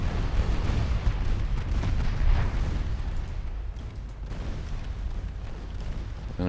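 HE shells fired from battleship guns in the naval game Ultimate Admiral Dreadnoughts, heard as heavy, rumbling booms rolling together into a loud, continuous barrage that eases slightly toward the end.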